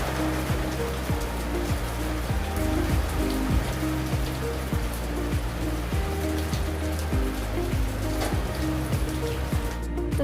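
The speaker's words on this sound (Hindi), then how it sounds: "पानी बरसना स्टार्ट हो गया था।" Rain pours down steadily, a dense, even hiss of drops striking surfaces close by, unbroken for the whole stretch, with faint background music underneath.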